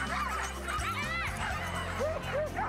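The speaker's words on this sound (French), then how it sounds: "On va mettre des harnais, on va atteler les chiens puis on va aller faire une balade." Sled dogs in a pack give excited yips, whines and barks while being harnessed outdoors, overlapping continuously and close by.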